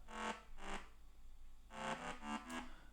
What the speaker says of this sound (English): we could try to build up a chord, or let's say a power chord, a fifth, the root note and the fifth.